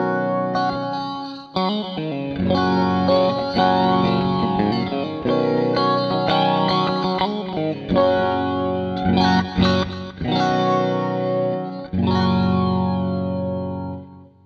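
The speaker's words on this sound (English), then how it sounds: "Just to give it some kind of chorusy effect to it" Electric guitar run through the flanger and chorus of a MOOER Black Truck multi-effects pedal, clean tone with swirling, sweeping modulation over sustained chords and short melodic runs, close and steady with no speech.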